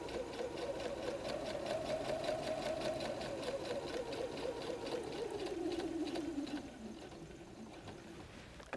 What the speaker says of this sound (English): I'm going to stitch the second diagonal line